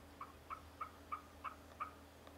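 A bearded wild turkey hen gives a series of six evenly spaced yelps, faint and somewhat distant, against a quiet outdoor background in Kansas.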